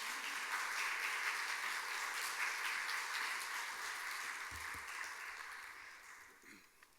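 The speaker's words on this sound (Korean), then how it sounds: "따뜻한 박수로 환영해 주십시오." A church congregation at a Sunday service gives a steady round of applause, sustained for several seconds and then fading out, with no voices over it.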